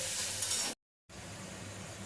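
Chicken sizzles and fries steadily in a pan, a dense hiss that cuts out briefly to silence and then resumes at the same level.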